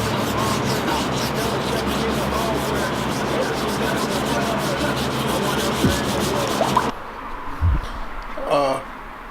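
Car trim on a Honda Civic is sanded with 1500-grit sandpaper in a steady, close rhythmic rubbing for about seven seconds, then stops abruptly, followed by a brief voice and light handling noise.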